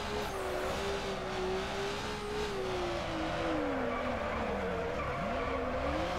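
Tyres squeal in a long, sliding skid as a car drifts sideways in the racing game NFS Underground, the pitch wavering and dipping over a steady engine drone, loud and continuous throughout.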